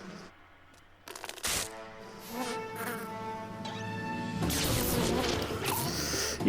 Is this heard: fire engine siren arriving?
no